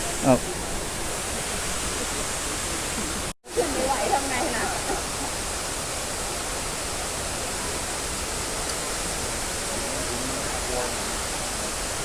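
A little-visited waterfall in southern Laos roars with a dense, constant rushing wash of falling water close by, and a person speaks briefly over it.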